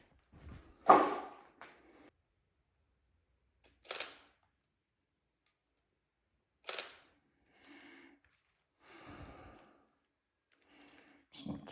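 A Sony camera shutter fires several times in a quiet room, each a crisp, close mechanical click spaced a few seconds apart, with soft handling noises between shots.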